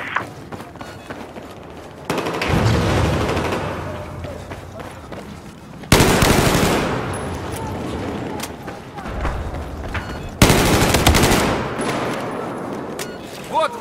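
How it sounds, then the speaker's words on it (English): Bursts of machine gun fire in a Battlefield 4 Conquest match on Operation Locker, loud sustained volleys starting around two, six and ten seconds, each trailing into dense battlefield gunfire and echo, with no one talking. "There's an enemy machine gunner east of your location."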